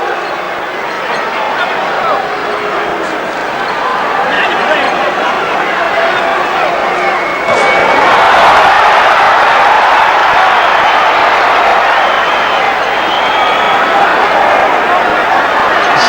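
Dense, steady crowd noise from a boxing arena during a Mike Tyson versus Tony Tucker fight, a loud continuous roar of disapproval that swells around the midpoint and stays heavy to the end.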